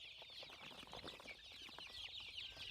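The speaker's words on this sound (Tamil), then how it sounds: "ஒவ்வொரு பாக்ஸ்லேயும் 12 குஞ்சு போட்டிருக்கோம்" Chicks packed twelve to a box for delivery chirp faintly and continuously in a dense, high-pitched chorus of overlapping peeps, with no speech.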